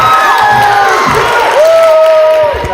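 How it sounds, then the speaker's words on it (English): A school audience cheers and shouts at a sophomore story slam, with loud, continuous crowd noise and high whoops throughout. "Our next storyteller, please clap up, Jack Chase."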